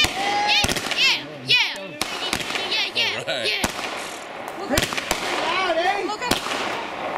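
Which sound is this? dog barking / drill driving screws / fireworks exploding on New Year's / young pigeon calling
fireworks exploding on New Year's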